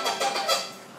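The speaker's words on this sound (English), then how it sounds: "so you don't get squeaky sounds like this" A violin bow squeaking and squealing on the strings in the hands of a beginner, a brief, thin, scratchy sound lasting about a second, with no voices.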